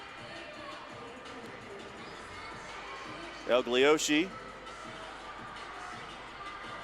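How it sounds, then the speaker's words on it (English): Spectators murmur and cheer at a soccer match between Fayetteville Fury and Columbus Rapids, a steady, fairly distant crowd roar throughout, with a commentator's voice rising briefly above it midway. "Yeah, the crowd's getting lively too."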